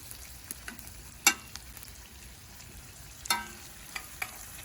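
Butter melting and sizzling with onions and garlic on a Big Green Egg grill, a steady soft fry under scattered sharp clicks and scrapes of a spatula, no voices.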